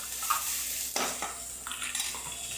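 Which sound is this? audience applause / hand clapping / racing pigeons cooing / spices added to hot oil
spices added to hot oil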